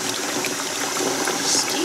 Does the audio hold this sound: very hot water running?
yes